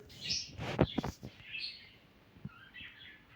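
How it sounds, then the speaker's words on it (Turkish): Small pet birds, adults and chicks, chirp and tweet in quick bursts, fairly close, with several short sharp calls clustered early and scattered softer chirps after. "bu cik cik sesleri nereden geliyor diyorsanız benim bir sürü kuşlarım var"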